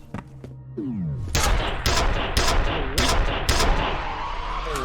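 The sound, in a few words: gunfire in the video game F.E.A.R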